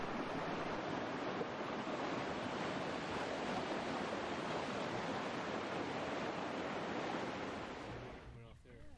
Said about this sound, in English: we came upon another tumbling rapid, which necessitated a short carry.